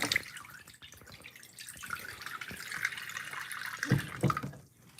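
Spring water is poured into a Japanese pot for poaching eggs, giving a steady close splash and trickle that swells, drips, and ends with a couple of soft knocks.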